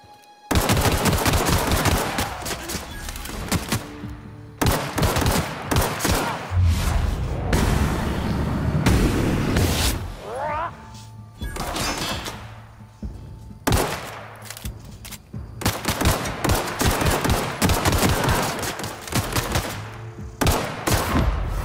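Heavy gunfire from The Outer Worlds video game, repeated loud bursts of automatic fire and single shots with short pauses between volleys, the odd booming impact mixed in, and no speech.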